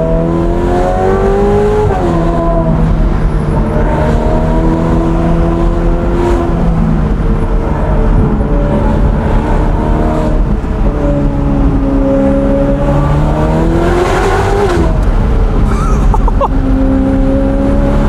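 Ferrari F8 Tributo with its twin-turbo V8, the engine droning loud and close through repeated rising and falling revs as the car accelerates through the gears, with a speaker talking faintly beneath.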